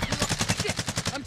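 Rapid automatic gunfire in the video game Warzone, a fast, evenly spaced burst of about a dozen loud shots in quick succession, close and dominant.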